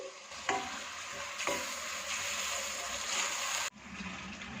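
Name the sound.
tomato masala frying and stirring as water is added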